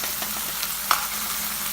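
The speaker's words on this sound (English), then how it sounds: "I've got garlic paste, chopped up onion and salt and oil in there, and I'm gonna fry this until it gets a little brownish color" Chopped onion, garlic paste and salt fry in oil in a pan over medium gas heat, a soft, steady sizzle with a brief faint stir or clink partway through.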